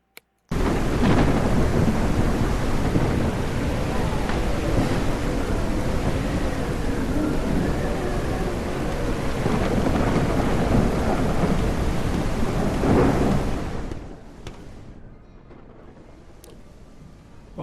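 A heavy thunderstorm in the game SurrounDead rumbles with rolling thunder over dense rain, loud and unbroken for most of the stretch before easing off into quieter rainfall near the end.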